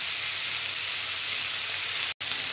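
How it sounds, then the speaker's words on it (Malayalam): Satay meat pan frying in a hot pan, a steady close sizzle that runs unbroken and then cuts out for a moment near the end before resuming. "ഒന്ന് പാൻ ഫ്രൈ ചെയ്തിട്ട് എടുക്കാം."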